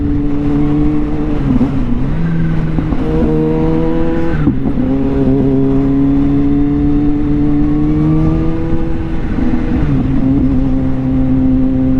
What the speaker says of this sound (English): Y'all hear that supercharger?